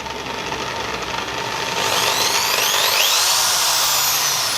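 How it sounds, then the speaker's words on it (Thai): A Makita M8103B 13 mm hammer drill runs with no load, its motor whine rising as the trigger is pressed harder, then holding a loud, steady high pitch up close. "สวิตช์สามารถปรับรอบได้โดยแรงกดของนิ้วนะครับผม"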